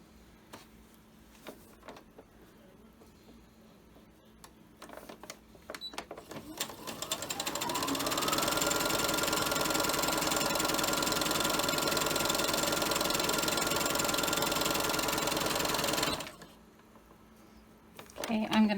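Sewing machine stitching a fabric face mask made from fat quarters: a few short bursts and clicks at first, then a steady, loud, fast mechanical whir running for about eight seconds before stopping abruptly, with a brief noise after.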